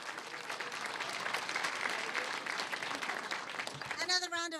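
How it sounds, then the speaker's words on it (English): Audience applause at a mayoral domestic violence awareness event, steady clapping from a sizable crowd for about four seconds before a voice begins speaking over it. "Another round of applause for Emma Jean Foster."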